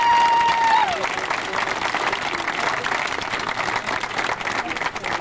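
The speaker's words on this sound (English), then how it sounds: "How about a round of applause for yourselves for that?" Rally crowd applauding outdoors, a sustained dense clapping that swells and carries on steadily, with a brief tone at the start and voices mixed into the clapping.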